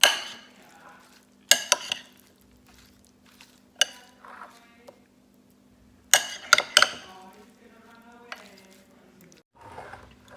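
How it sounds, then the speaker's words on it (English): A tomato salad with goat cheese and olive oil is tossed in a bowl, giving sharp scattered clacks and scrapes of a utensil with quieter wet mixing between them, under a faint steady hum. "And I'm gonna mix it."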